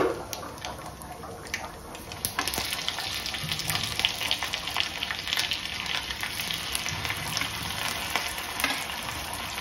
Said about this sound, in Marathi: गरम झालेल्या तेलामध्ये मोहरी टाकली, जिरं टाकलं, लसूण आणि मिरची टाकली